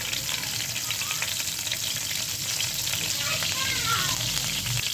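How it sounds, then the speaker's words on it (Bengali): Green chillies dropped into hot soybean oil in a frying pan give a steady, close, dense sizzle and crackle that runs without a break, with a few faint stirring scrapes and no talking. "তেলটা গরম হয়েছে, কাঁচামরিচ দিয়ে দেবো।"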